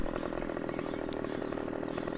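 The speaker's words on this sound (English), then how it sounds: "What's wrong here, chainsaw?" A chainsaw cutting down trees in the video game Farming Simulator 17 drones steadily and loudly through the whole stretch, with a continuous buzzing engine roar and no talk over it.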